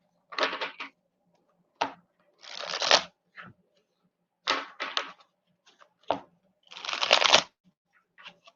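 Cards riffled and shuffled in several bursts, close and crisp, with short taps and pauses between each shuffle.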